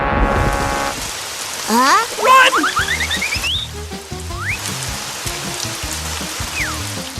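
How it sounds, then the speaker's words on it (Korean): Steady rain falls outside as a constant soft hiss, running under cartoon music with sliding whistle-like effects and bouncy low notes throughout. "밖에 비가 와요."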